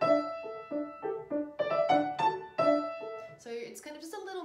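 A solo piano plays notes from a beginner piece at a soft dynamic with one gently accented note, giving a short, clear phrase of separate struck notes up close.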